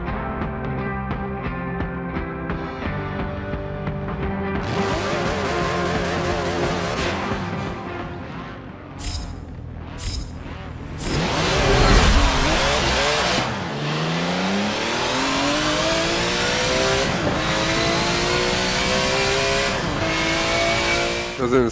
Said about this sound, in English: That was an insane tire spin launch right there.